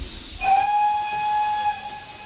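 A steam locomotive whistle on the Bluebell Railway blows one long, steady shrill tone over a background of hissing steam, fairly close and loud.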